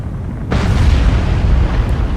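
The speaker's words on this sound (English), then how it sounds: "Both of our torpedoes hit." Deep, rumbling blast of torpedoes striking a ship in the submarine game Cold Waters, a sudden loud onset that rolls on as a sustained heavy roar.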